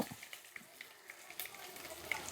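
Mustard seeds and green chilies frying in hot oil with a faint, crackly sizzle and scattered small pops, fairly quiet and close, with no talking.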